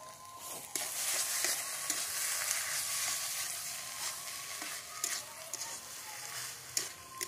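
Spice paste of coriander and cumin is stirred into taro greens with small shrimp frying in a pan, giving a steady loud sizzle with scraping stir strokes throughout and no talk.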